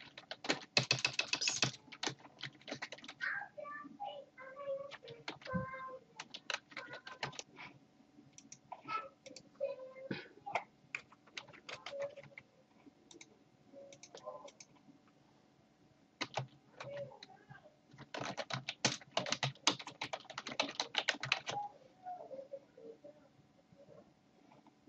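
Close, quiet keystrokes on a computer keyboard as a password is entered, coming in fast bursts of clicking with short pauses between them and no talk.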